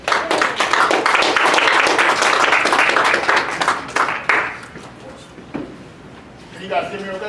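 An audience claps steadily in a loud, dense burst of applause welcoming a speaker at a student leadership workshop, fading out after about five seconds into scattered claps and a short stretch of talk.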